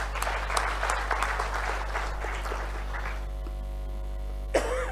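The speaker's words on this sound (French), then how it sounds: "Nous voulons aussi les acclamer." Audience at a congress in Kinshasa applauding ocularists and ophthalmologists, a steady crowd clapping that fades out after about three seconds over a constant low hum, followed by a brief voice near the end.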